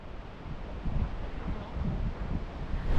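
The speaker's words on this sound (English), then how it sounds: "It's a little breezy up here." Wind buffets a microphone on a breezy overlook along the Elwha Road near the Glines Canyon Spillway, a steady low rumble swelling in gusts and strongest near the end, with no talking.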